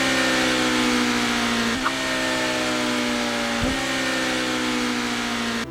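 A Honda Africa Twin CRF1100L motorcycle engine drones steadily at a loud, even pitch, with two brief dips in tone.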